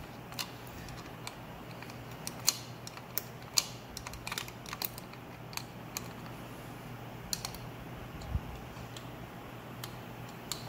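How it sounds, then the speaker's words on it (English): Sharp, sparse clicks of a wrench tightening oil pump bolts on a 5.0 engine, irregular and fairly faint over a steady low hum, with no talking. "So you have to wrench them down and get them tight as can be."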